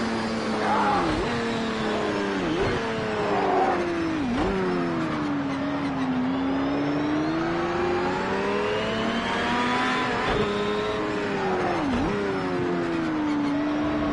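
Race cars in Project Cars 2, including a Nissan, roar continuously at high revs, the engine pitch climbing through gears and dropping sharply at each shift, loud and close throughout.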